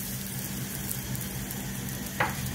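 Sfenj dough fries in hot oil in a pan, giving a steady, close crackling sizzle with a brief sharper spatter near the end and no talking.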